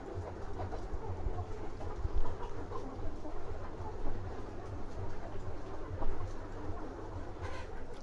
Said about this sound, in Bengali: এই যে মুরগিগুলো খাচ্ছে।